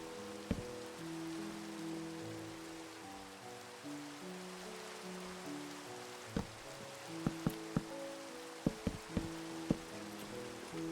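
Rain in Minecraft patters as a quiet steady hiss, broken by several sharp clicks and knocks clustered toward the end.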